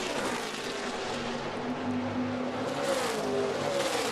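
A NASCAR Xfinity Series race car engine roars steadily through the final lap, a continuous loud drone with rising and falling pitch as the car pushes around a difficult track.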